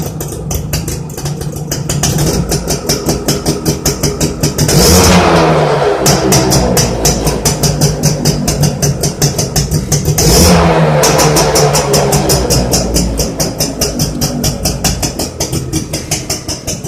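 A rebuilt Suzuki AX 100 motorcycle runs close by with a rapid, pulsing engine beat, revving up loudly twice before settling back to a steady idle.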